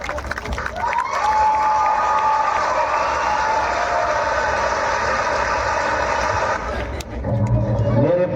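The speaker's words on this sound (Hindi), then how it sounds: "आइए जोरदार ताली के साथ हम अपने वीर सैनिक का स्वागत करें" A crowd at a Republic Day celebration at Hindalco's Gujarat unit applauds and cheers to welcome a soldier, a loud sustained roar with a whistling tone over it that drops briefly near the end before swelling again.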